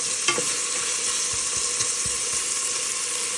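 Mung beans and fish stir frying in a pan give a steady broadband sizzle, with a few soft scraping strokes of a utensil close by and no talking.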